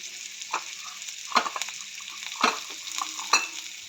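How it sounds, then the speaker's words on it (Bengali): Flat beans frying in a pan give off a soft, steady sizzle, broken by several sharp scraping stirs of a spatula spaced about a second apart. "ছিমটা ভাজা ভাজা হয়ে গেছে"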